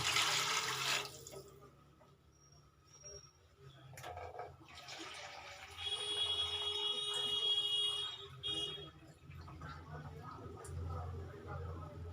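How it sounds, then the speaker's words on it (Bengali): Water poured from a mug onto daliya (broken wheat) in a bowl for rinsing, a soft splashing pour with trickling and quiet kitchen clatter, fairly faint. "এবার আবার জল দিয়ে দিচ্ছি।"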